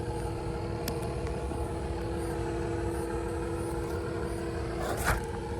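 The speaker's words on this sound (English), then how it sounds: "Big truck coming. Big old truck." A big truck passing near a cyclist on the road, a steady low engine rumble and road roar building to a louder swell near the end, with no talking.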